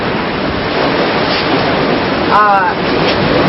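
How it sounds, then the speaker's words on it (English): Strong wind from a tropical cyclone roars steadily over open water at an anchorage in Vanuatu, a loud, buffeting rush with a brief whistling gust partway through. "you might be able to hear the wind in the background"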